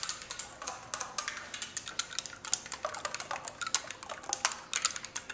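Mechanical key clicks from a keyboard instrument's demo patch, a steady stream of crisp, irregular taps in a rapid rhythm, fairly close and moderately loud, heard alone without voices.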